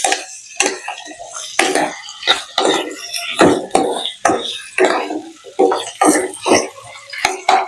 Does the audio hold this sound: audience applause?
no